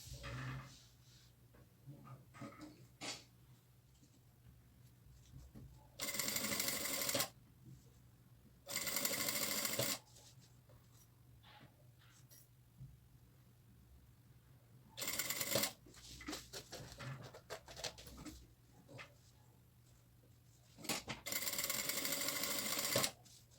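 A sewing machine stitches a satin and tulle pouch with a zipper foot fitted, running in four loud, steady bursts separated by quiet stretches of fabric handling.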